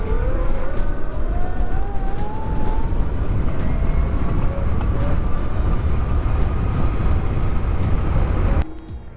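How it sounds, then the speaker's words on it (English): Gas-powered vehicles heard outdoors in a snowstorm, a loud continuous engine roar with a rising whine that holds for several seconds before cutting off abruptly near the end. "I heard gas-powered vehicles and I want to go down there."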